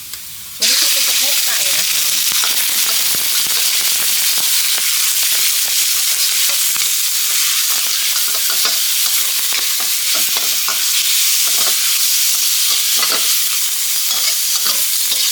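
Chicken thighs frying in a hot pan with garlic, a loud, steady sizzle and crackle that runs unbroken from start to finish, close by.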